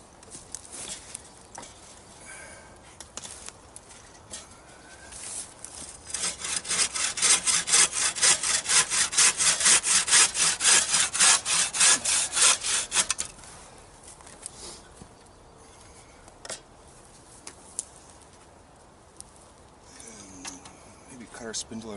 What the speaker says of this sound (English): Cut our spindle out of this piece here.